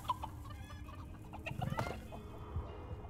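Chickens cluck repeatedly inside a chicken coop in the Dungeons 4 video game, with several overlapping fowl calls over a steady low rumble of game ambience, one louder burst near the middle.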